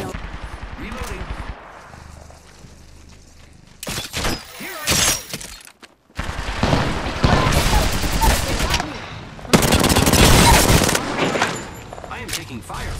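Loud, rapid automatic gunfire and crackling impacts in the Apex Legends video game come in long, dense bursts separated by brief pauses, close and intense throughout.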